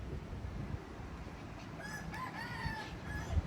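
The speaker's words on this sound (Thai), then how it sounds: "เสียงไก่ขัน" A rooster crows once in the distance at a seaside campsite, a drawn-out cock-a-doodle-doo over a soft background hiss and faint rumble of waves.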